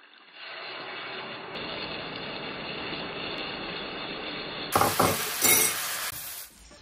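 Chicken wings fry steadily in a pan with a loud, even sizzle. Near the end a sauce mixture is poured in, and stirring produces sharp, bright spatters before the sound cuts off.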